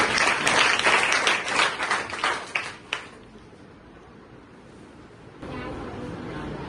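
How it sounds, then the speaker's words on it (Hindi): Schoolchildren in a government school classroom in Gaya clap together in a loud, dense burst for about three seconds. The clapping trails off into near quiet, then a faint murmur of background sound. "इसके लिए तालियां दो"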